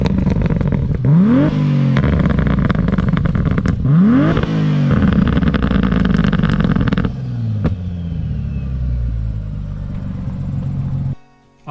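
A turbocharged Mercedes M104 engine swapped into a Lexus IS200 revs hard to about 6,700 RPM. Two sharp, loud climbs with clattering overtones are followed by a rougher settling idle before it cuts off abruptly.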